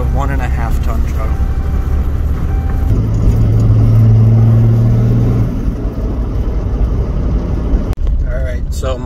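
A 1.5 ton truck rolls along a bumpy road, its engine droning low and steady inside the cab with rattles and thumps, and someone talks over the noise.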